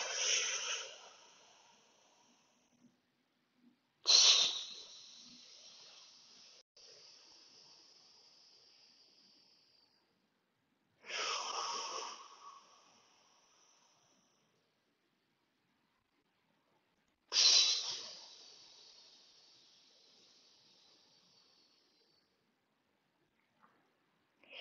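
Four slow, deep inhalations during a breathing exercise, each a close, airy rush of breath that tapers off before a spell of near silence.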